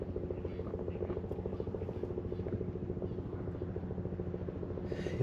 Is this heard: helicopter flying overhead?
yes